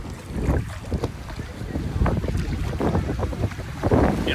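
Strong wind buffets the microphone on a beach in Naxos, Greece, with rough waves rolling in; gusty low rumbling rises and falls continuously and loudly throughout, with no voices heard.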